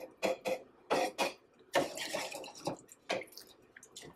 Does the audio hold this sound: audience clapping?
no